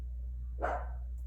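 A single short dog bark sounds indoors over a steady low hum, fairly faint and alone.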